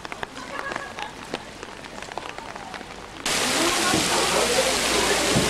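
Rain at the Kamakura Great Buddha, sparse drips and patter at first, then a sudden switch to a dense, loud, steady downpour hiss, with speech present.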